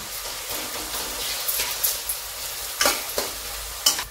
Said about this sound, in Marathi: कांदा आपल्या इकडे भाजत आहे